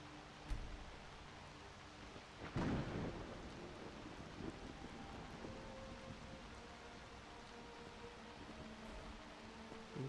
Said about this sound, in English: Hopefully the rain will stop by then.